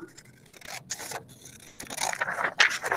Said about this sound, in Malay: Guntingkan sama-sama.